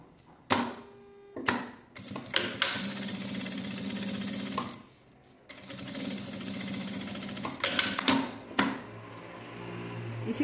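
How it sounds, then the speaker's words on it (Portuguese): Sewing machine topstitching a fabric clutch in bursts, several loud runs of rapid needle chatter separated by brief pauses with handling clicks. "Agora eu vou passar a costura de pesponto"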